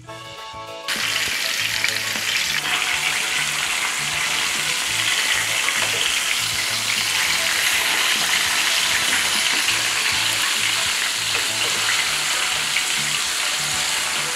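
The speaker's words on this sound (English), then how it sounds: "we'll place the individual floured pieces into the hot oil and cook on both sides until they're nice and golden brown" Floured fish pieces for a Trinidad curry frying in hot oil, a steady, loud crackling sizzle that starts abruptly after a quiet first second and holds evenly to the end with no talk.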